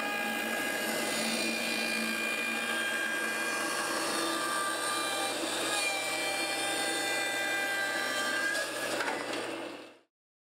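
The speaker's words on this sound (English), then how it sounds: "I'm gonna take it to my bandsaw and cut that off" Bandsaw cutting a piece of kiln-dried wood for chairmaking, a steady loud whining buzz running continuously for about ten seconds before cutting off abruptly, with no talk.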